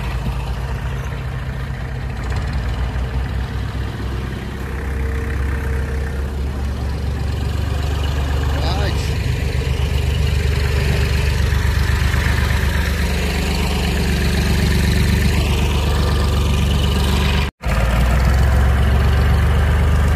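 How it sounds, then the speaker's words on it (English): A tractor engine runs steadily at idle at an autumn camp, a heavy low drone filling the whole stretch with one brief dropout near the end. "Tractor power."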